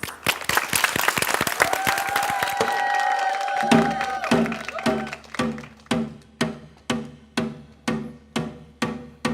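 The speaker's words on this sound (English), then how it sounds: "please, if you will welcome them with a warm round of applause" An audience applauds, dense clapping and some cheers swelling then fading, followed by a few slow, evenly spaced claps or drum-like beats, before a Korean traditional music performance.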